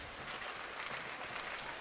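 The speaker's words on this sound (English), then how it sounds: "You might hear the parents applauding in the background." Parents clap from the stands at a youth hockey game, a soft, distant patter of scattered applause running steadily for a couple of seconds.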